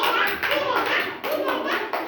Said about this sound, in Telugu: కొట్టండి రా క్లాప్స్.